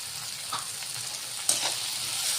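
Turmeric, coriander and cumin powders with salt and kasuri methi fry in hot oil, giving a steady close sizzle broken by a couple of soft stirring scrapes.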